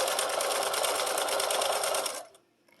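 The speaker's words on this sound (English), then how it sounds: "we're going to sew right over the top of that fold and continue down the next side" Sewing machine stitching binding onto a mini quilted wall hanging, a steady close whirring run that stops abruptly near the end, leaving quiet.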